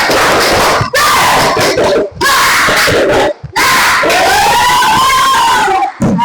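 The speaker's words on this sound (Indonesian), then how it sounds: "Coba tepuk semangat" Classroom children perform the 'tepuk semangat' clapping chant, a loud, close group shout delivered in four or five energetic bursts separated by short pauses, with voices rising and falling in unison.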